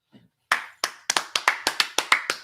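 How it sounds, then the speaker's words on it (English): A class claps hands at dismissal: about ten sharp, fairly even claps ring out one after another, close and loud, after a brief faint murmur at the start. "Clap it up."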